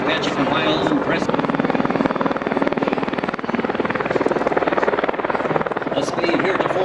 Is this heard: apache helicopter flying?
yes